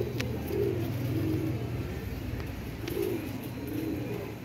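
A pair of pigeons coos nearby with soft, low, rolling calls repeating every second or so over a steady background hum.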